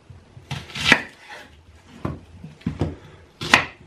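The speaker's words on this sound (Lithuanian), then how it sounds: "Kol grybai verda, susipjaustom svogūnus." Knife chopping onions on a cutting board, heard as a few separate sharp chops with short pauses between them, close and fairly loud, with no voices.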